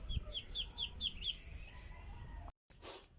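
A series of short, high-pitched peeps from chicken chicks repeats in a quick, steady rhythm, close by, over a low rumbling background, then briefly cuts out.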